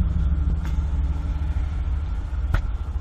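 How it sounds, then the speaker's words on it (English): A cheap pump runs during a windshield replacement on a Tesla Model X, giving a steady, loud low hum with a couple of faint clicks. No one talks. "These pumps are cheap, but"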